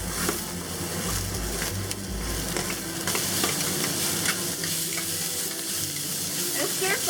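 Ginger, garlic and onion stir-frying in a little leftover oil for spicy eggplant, a steady close sizzle with scraping and stirring strokes throughout.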